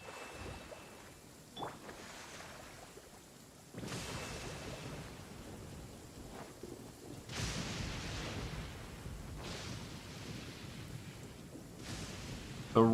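Steady rain hisses throughout in the video game Genshin Impact, with low rumbles and several sudden loud bursts like thunder or impacts rolling in every couple of seconds.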